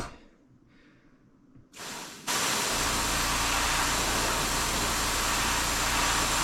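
A steady, loud hiss of a spray gun at lowered pressure painting a crankbait fishing lure starts abruptly after a brief sputter and continues evenly, filling the background with broad airy noise.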